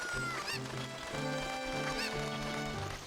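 Chicken (cucco) in the video game Zelda Ocarina of Time, two short squawking calls over looping game music, fairly quiet.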